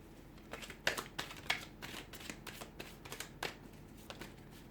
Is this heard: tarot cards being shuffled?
yes